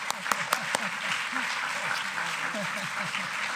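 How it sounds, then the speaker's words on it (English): Audience applause at a global development lecture, a steady wash of clapping under which a few voices and cheers can be heard from the crowd. "So please, let's all give her a round of applause."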